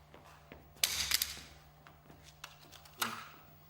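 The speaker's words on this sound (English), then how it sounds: "I have to cock the weapon here. I want him to hear this sound" A handgun being cocked in a self-defence drill, heard as a few sharp metallic clicks and snaps, close and quiet, with small handling noises between them and no talk.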